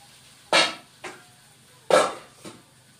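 Fried potatoes dropped into a pot of rohu fish curry, giving four dull thuds and clatters in two pairs, each a louder hit followed by a softer one, close and alone.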